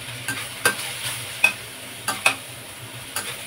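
Pork intestine goes into a hot pan for Filipino menudo, giving a soft continuous sizzle with several sharp clacks of a utensil stirring against the pan at irregular intervals.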